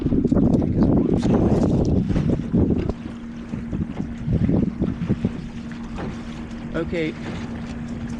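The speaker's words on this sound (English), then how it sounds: "we are under sail" A sailboat runs under sail, with strong wind buffeting and rushing water and hull noise throughout, loudest at first, while a steady low hum persists and voices speak briefly.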